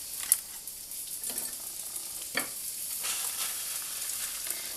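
Garlic and chorizo sizzle and fry steadily in a pan with rosemary about to go in, a continuous hiss with a few sharp clicks and stirring scrapes, close by and alone.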